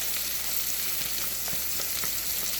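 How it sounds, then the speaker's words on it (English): Wooden spoon stirring a cream corn and cornbread mixture for a ground beef casserole, giving soft, wet scraping and squelching strokes in a steady rhythm, close and alone against a constant hiss. "Take my wooden spoon and I blend it"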